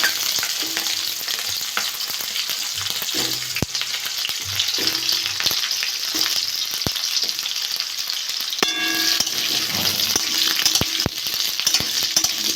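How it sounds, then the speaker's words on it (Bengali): Potatoes and green chillies fry in hot mustard oil with a loud, dense sizzle that runs the whole time, punctuated by sharp spatula knocks and scrapes against the pan, with no voices. "তেলটা গরম হয়ে গেছে, লঙ্কাগুলো দিয়ে দেবো, আলুগুলো দিয়ে দেবো।"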